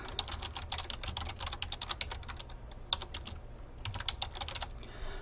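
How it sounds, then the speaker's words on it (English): Rapid typing on a computer keyboard while entering a label into an Excel spreadsheet cell. Dense, close key clicks patter continuously with only brief pauses and no voice. "in cell G1 here, we're going to type total original value."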